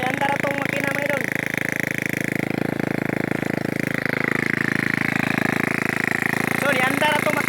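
Engine on a plastic pyrolysis machine runs continuously after starting, a loud, steady, rattling drone up close, with a voice speaking over it.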